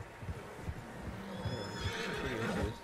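Several horses whinnying and neighing in the snowy Red Dead Redemption 2 game world, with hooves clip-clopping in a steady rhythm, fairly close and without speech.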